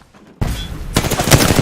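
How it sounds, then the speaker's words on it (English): Gunfire in the Apex Legends video game, a close, loud burst of rapid automatic shots that starts abruptly after a brief quiet moment and then continues as further fire. "Being shot at. Firing."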